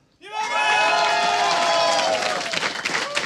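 Loud, dense crowd cheering and shouting at a StarCraft 2 tournament, WCS Europe 2014 quarterfinal, surging in right away and staying steady, with bursts of applause and whoops throughout.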